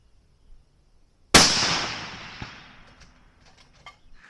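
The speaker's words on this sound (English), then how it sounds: "we're going to take another shot" A single loud rifle shot fired while re-zeroing a scope in the field: a sharp crack with a long, fading outdoor echo, then quiet.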